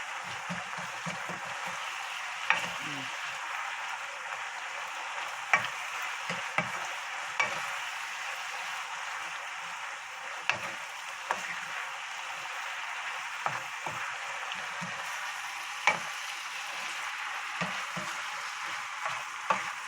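Kimchi and onion stir-frying in a pan, a steady moist sizzle broken by irregular scraping and clacking strokes from a stirring utensil, close and continuous with no one speaking.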